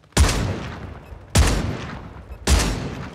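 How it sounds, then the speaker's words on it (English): Three loud, booming shotgun blasts from the buffed Reclaimer 18 in a video game, evenly spaced about 1.2 seconds apart, each with a sharp attack and a long rumbling decay, with no talking. "this shotgun was shooting like this"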